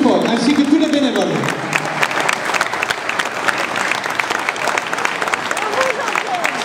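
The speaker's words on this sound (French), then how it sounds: "son papa, Jean-Pierre Houdard, Madame Conca, je crois que vous pouvez les applaudir, tout le monde, bien fort, plus fort, ainsi que tous les bénévoles." A crowd at a community gathering in Mons applauds loudly and continuously, a thick sustained wash of clapping with a voice briefly audible at the beginning.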